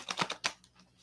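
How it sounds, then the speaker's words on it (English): A deck of cards being shuffled by hand with long fingernails gives a few quick, crisp papery riffles and snaps up close, then fades to quiet within about a second. "Let me finish shuffling."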